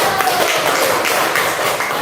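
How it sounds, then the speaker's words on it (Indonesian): A classroom of students applauds group 1, a dense, steady wash of many hands clapping close by, filling the whole moment without a break. "tepuk tangan yang meriah untuk kelompok 1"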